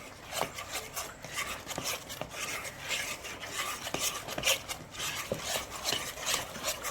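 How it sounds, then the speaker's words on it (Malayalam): Squid marinade being mixed with water in a bowl, a steady close scraping and rubbing with repeated stirring strokes, no voices. "ഇതാ ഒന്ന് മിക്സ് ചെയ്യാനുള്ള വെള്ളവും കൂടെ ഇനി നമുക്ക് നന്നായിട്ടൊന്ന് മിക്സ് ചെയ്യാം"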